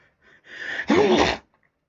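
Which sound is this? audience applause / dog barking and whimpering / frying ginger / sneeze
sneeze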